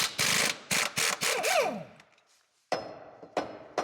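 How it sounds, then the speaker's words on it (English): Sharp metallic soft-blow hammer strikes on a semi truck torque rod bushing bolt in a quick irregular series, several close blows, a pause, then two more hits, loud and close. "you're going to use a soft blow hammer to break it loose"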